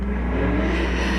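A loud souped-up Camaro with a modified, missing muffler drives by, a deep steady engine rumble holding throughout without voices.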